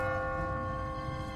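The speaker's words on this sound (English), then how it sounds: "What kind of church bell goes off at 20 past the hour?" An automatic church bell rings at an odd time in a quiet abandoned city in The Walking Dead video game, one faint sustained metallic tone with steady overtones, alone.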